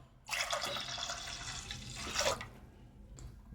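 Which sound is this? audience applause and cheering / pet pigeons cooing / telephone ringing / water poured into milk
water poured into milk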